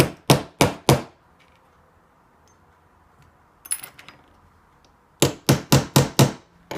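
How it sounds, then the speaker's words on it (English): A hammer taps a Tamiya Mini 4WD suspension part into a tight hole, with a quick run of four sharp close knocks, a pause with faint rustling, then a longer rapid series of five or six strikes. "So I have to using a hammer or something to hit it."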